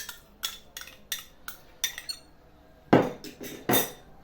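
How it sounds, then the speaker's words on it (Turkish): Dough ingredients are dropped into a kneading bowl in a home kitchen, giving a series of short clinks and knocks of utensils against the bowl, evenly spaced at first, then a louder cluster of clatters near the end. "şimdi hemen malzemelerimi yoğurma kabının içine alıyorum."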